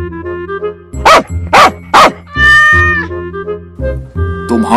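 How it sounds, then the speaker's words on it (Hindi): A cartoon dog chases a cat: three loud sharp barks in quick succession, then a drawn-out meow and further yelps over a steady low musical backing, with no talking. "तुम्हारे कुत्ते ने हमारी बिल्ली को खदेड़ा।"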